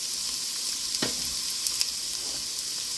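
Onions and garlic sauté in a hot pan, giving a steady loud sizzle with occasional soft stirring clatter, close up and without talk.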